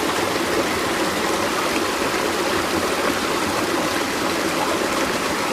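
A creek flows steadily over rocks, its dense broadband rush of water loud and close, continuous with no voices.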